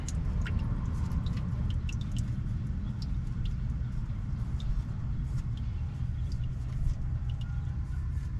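Scattered small drips and splashes of water draining from a drain plug patter irregularly over a low rumbling background, continuing steadily throughout.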